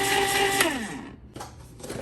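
An ice cream maker churning frozen yogurt whirs loudly, its motor pitch sliding down as it winds to a stop, then it briefly kicks back on twice with short, steady hums.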